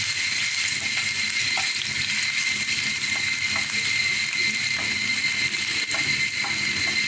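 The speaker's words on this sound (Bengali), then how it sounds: "আদা কুচি 1 চামচ দিয়ে দেব। দিয়ে এবার ভাজতে থাকবো।" Chopped ginger fries steadily in a home-kitchen pan for chicken Manchurian, a dense continuous sizzle with faint scraping clicks of stirring, close and loud throughout with no voices.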